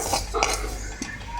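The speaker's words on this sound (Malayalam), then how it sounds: "ഇതുപോലെ നന്നായിട്ട് വറുത്തെടുക്കുക." Broken wheat roasting in a pan over low to medium flame, with a spoon scraping and clinking against the metal in a few quick strokes close up, no talk.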